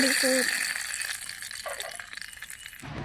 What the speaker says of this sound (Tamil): அதுக்கப்புறம் லெமன் சாப்பாடு அந்த புளி இதெல்லாம் கரைச்சி வச்சுருக்க தண்ணியை ஊற்றிக்கலாம்.